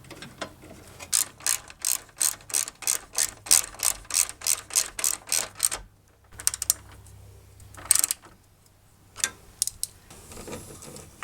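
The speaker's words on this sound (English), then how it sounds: "Now we're ready to put these bolts back in that support the radiator." A hand ratchet clicks in quick repeated bursts while driving radiator support bolts on a 2004 Toyota Tundra 4.7L double cab, close and crisp, with short pauses between strokes and no talk.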